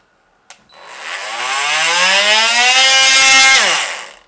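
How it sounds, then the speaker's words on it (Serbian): A Parkside PAMFW 20 Li A1 cordless multitool sanding, battery-powered without an adapter: a sharp click, then a loud, close, high whining buzz that ramps up, holds steady for about three seconds and winds down. "da vidimo kakav je rezultat samog šmirglanja"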